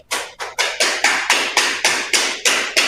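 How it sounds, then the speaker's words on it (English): Vinyl flooring planks are tapped into place with about a dozen sharp, evenly spaced knocks in quick, steady rhythm, close and loud, each with a brief decay. "You just want to keep knocking until you get a nice tight joint."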